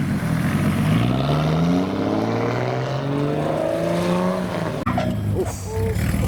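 Modified 2J Ford Capri driving past, its engine note climbing steadily as it pulls away, loud and continuous amid general car-event noise.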